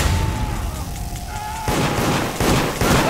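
Gunfire in the multiplayer video game Deceit crackles in sharp bursts, a steady tone giving way to a loud rapid volley of shots near the end, with no talk.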